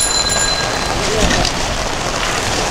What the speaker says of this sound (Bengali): আমি হাঁটতেছি বৃষ্টির মধ্যে, হাঁটতে খুব ভালো লাগতেছে।